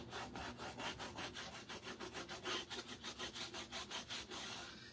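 Soaked, softened paint being scraped off a surface with repeated, evenly spaced strokes, a rhythmic close rasping scrape about four or five times per second, fairly quiet.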